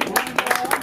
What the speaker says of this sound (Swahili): Lakini ningewaambia mjipigie makofi